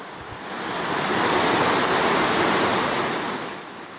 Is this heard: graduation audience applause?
no